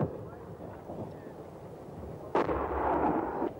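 Field artillery guns fire in the Falklands War: after a stretch of wind and murmur with a shouted command, a single sharp heavy blast booms out and rumbles away.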